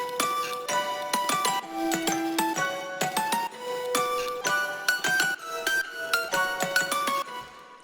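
The second drop of the electronic track plays a bright synth lead stepping through a descending changed melody, with steady rhythmic note stabs and a full, continuous mix.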